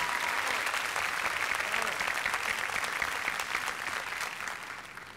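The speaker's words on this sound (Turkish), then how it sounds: "Ömer Ahmet, alkışlıyoruz bu güzel performans için." A studio audience claps steadily at a televised Turkish folk song competition final, loud and sustained applause that slowly fades toward the end.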